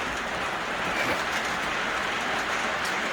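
Lionel Lines O gauge model train running steadily along an indoor layout track, a continuous close rolling rumble and whir of wheels and heavy-loaded cars with faint clicking, no voices.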